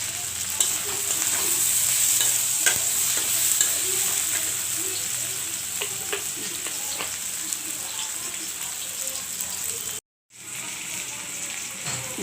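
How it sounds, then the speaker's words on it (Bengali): Shrimp sizzles and fries in a pan while being stirred steadily for a Bengali eggplant-shrimp curry, a dense constant crackle with scattered scraping taps, no talk, with a brief dropout near the end. "এখানে আমার চিংড়ি মাছটাও ভালোভাবে কষানো হচ্ছে।"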